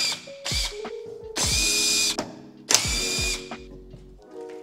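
Impact-style power tool removing the front wheel of a Mazda MX-5 Miata on axle stands, with two long loud bursts of whirring drilling and short ratcheting clatters and clunks between them, close up and without talk.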